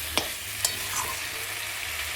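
Cauliflower and potato fry in a pan with a low, continuous sizzle. A couple of sharp spoon clicks land early on, followed by gentle stirring with no talking.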